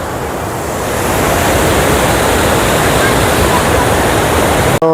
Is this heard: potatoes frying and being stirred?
no